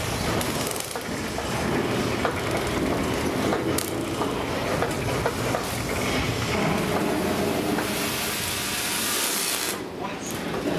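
A subway train effect on a 1998 Universal Studios Hollywood tram tour rumbles and clatters loudly past, with creaking, grinding noise throughout; voices talk underneath.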